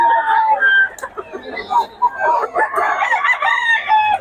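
Rooster crowing from a Sweater local banded gamecock, several long crows in succession, close and loud, with people talking throughout.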